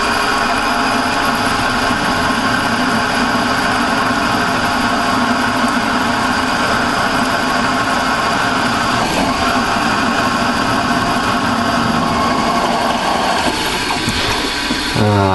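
A drill bit bores into a small metal workpiece held in a mini lathe, with cutting fluid applied, producing a continuous loud mechanical whir and grinding hum that holds steady with slight changes near the end.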